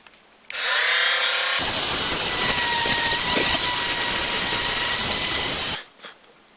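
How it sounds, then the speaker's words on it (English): A loud power drill whines up, grinds steadily for several seconds drilling holes through wood, then cuts off and spins down. "The next thing I need to do is to drill holes for these bigger stabilizing legs."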